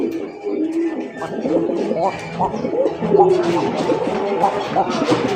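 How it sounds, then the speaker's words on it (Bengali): A round, show-quality pigeon at a Bangladeshi pigeon farm coos in deep, repeated throaty calls close by, while someone speaks over it throughout. "এরকম গোল আর এত ডাকের কবুতর"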